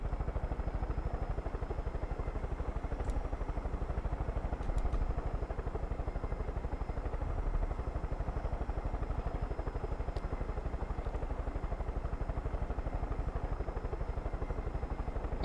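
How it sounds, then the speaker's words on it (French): A helicopter in the video game Far Cry 5 flies with a steady, loud rotor chop and engine drone that holds evenly throughout, no voices heard. "Pour vrai, ils sont vraiment pratiques les hélicos."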